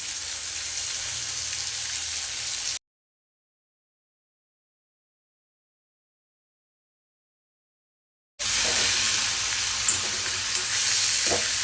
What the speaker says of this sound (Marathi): 2 ते 3 मिनटं टोमॅटो छान परतल्यावर त्यामध्ये टाकणार आहे आता पालक.